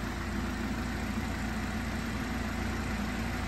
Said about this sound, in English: this is our twin scroll turbo charged four cylinder engine